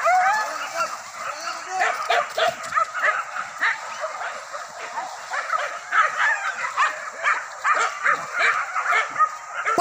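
Hunting dogs on a chase yelp, yip and bark in rapid, overlapping bursts, high-pitched and excited, some close and some farther off, continuing steadily with a few whimpers mixed in.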